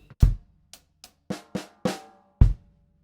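A bar on a drum kit mixes hand strokes with bass drum kicks, seven close hits with the deep kicks marking the start and end, the hand strokes ringing briefly between, with no voices.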